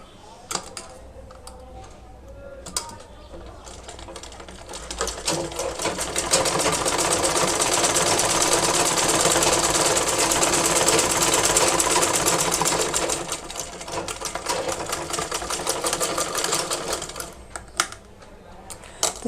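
An electric sewing machine stitches along the side of folded cloth, starting with a few clicks, then running in a loud, fast, steady whir for several seconds before slowing back to scattered ticks and taps.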